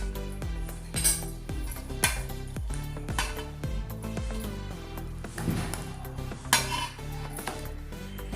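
A metal pot lifted out of a cooled pressure cooker after cooking cracked wheat for kheer, with several sharp clanks and clinks of metal against metal spaced through the stretch over a faint musical background.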